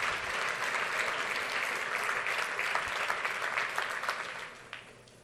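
A congregation at a church gathering breaks into sustained applause, many hands clapping together at a moderate distance; the clapping holds steady and then trails off toward the end.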